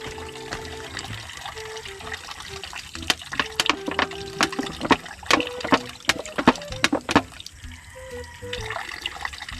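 Water runs from a homemade deep well pressure pump in Mindanao, splashing and trickling unevenly with clattering knocks and drips while people talk nearby.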